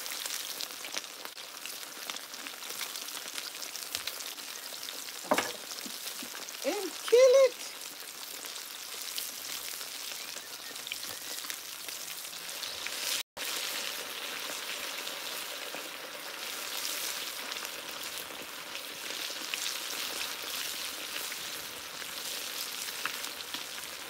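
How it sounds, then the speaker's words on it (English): Steady crackling sizzle of snapper frying in oil fills the whole stretch, with a few brief clatters near the start and one sharp click midway, outdoors in a backyard garden. "I'm frying fish."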